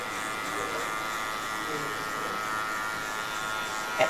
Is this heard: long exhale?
no